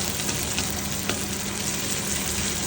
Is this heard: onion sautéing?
yes